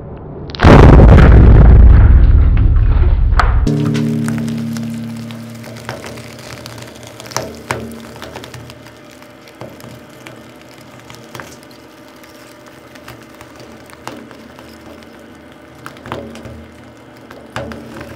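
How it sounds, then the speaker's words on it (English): A giant wood block under a 300-ton hydraulic press bursts with a loud, sudden boom, followed by a long tail of scattered cracks, pops and splintering snaps as the fractured wood settles. "add the pressure really slowly so we can hear if there is any cracks"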